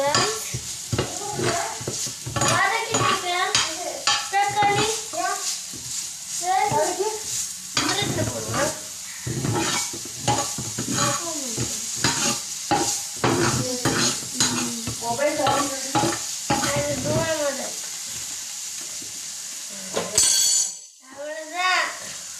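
Tomato and onion sandwich filling sautéed in a pan, with a steady sizzle and frequent clinks and scrapes of a utensil stirring it, while someone talks over it almost the whole time.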